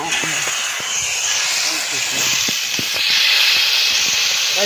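Whole fish frying in hot oil outdoors in a village, with a steady loud sizzling hiss throughout that swells near the end, while people talk nearby.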